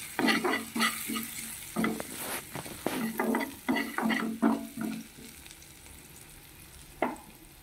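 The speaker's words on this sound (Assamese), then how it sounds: "অলপ সময় এনেকৈ ভাজিব লাগিব" Spices with turmeric frying and being stirred in a pan, a steady sizzle broken by repeated scraping stir strokes, close up and without talk.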